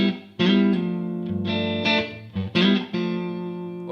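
Electric guitar with distortion and a chorus-like effect plays a half-diminished chord over a G bass note, several strummed chords ringing out loud and close, with no talk.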